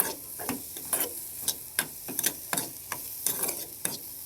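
Masala fries with pepper powder in a pan while a spoon stirs it, steady sizzling broken by repeated sharp scraping strokes at an uneven rhythm, close and alone.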